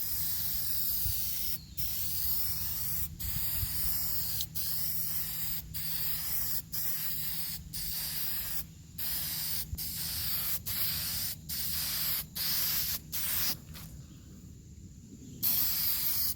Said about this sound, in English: This is why I hate spraying outside.